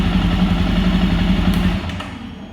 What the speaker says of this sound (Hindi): और बाइक को ऑफ करते हैं।